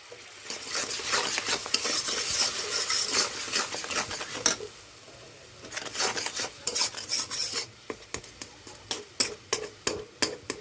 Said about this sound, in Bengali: মশলাটা দিয়ে নাড়াচাড়া করব